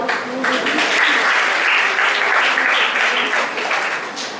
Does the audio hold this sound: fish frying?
no